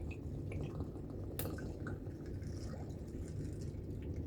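A drink is poured into a glass over ice, giving a low trickling, dripping wash with one sharp clink partway through; no voices.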